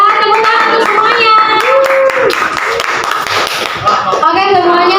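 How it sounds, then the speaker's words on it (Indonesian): Children in an Indonesian classroom clap together for everyone, a brisk, loud patter of hands mixed with singing or chanting voices throughout. "tepuk tangan untuk semuanya"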